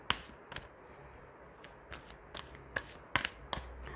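Oracle energy cards for a tarot reading being shuffled and pulled, with several crisp, brief card flicks and snaps spaced irregularly over soft background hiss, close to the microphone, with no talking.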